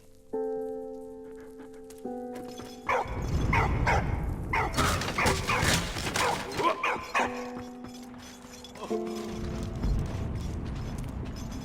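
A dog in the video game Valiant Hearts barks and yips amid mechanical creaks and clattering game effects, with sustained musical tones at the start and end.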